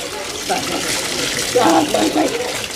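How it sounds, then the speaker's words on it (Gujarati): Water gushes steadily from a tap into a bath, first cold and then warm, close and continuous while people talk over it. "ઠંડા પાણી થોડુંક નાઈ લો પછી ગરમ પાણી આગળ આવશે."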